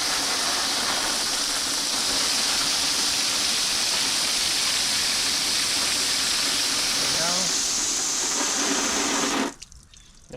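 Simulated rain pours steadily onto a Tesla electric car while it charges, a loud, dense, continuous water hiss that cuts off abruptly near the end.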